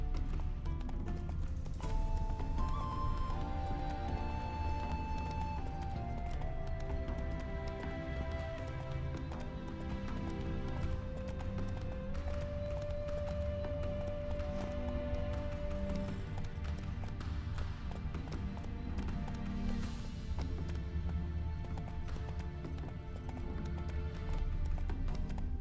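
Roach the horse gallops in The Witcher 3, her rhythmic hoof clip-clops running steadily under sustained orchestral game music throughout.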